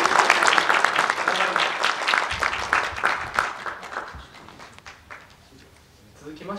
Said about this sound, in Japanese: 会場の皆様も改めて拍手をお願いいたします。